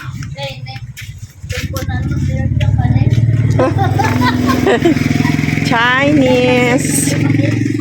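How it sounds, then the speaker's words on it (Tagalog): A motorcycle passes on a street while people walk, its engine rumbling steadily close by, mixed with clatter and people talking over it. "may motor."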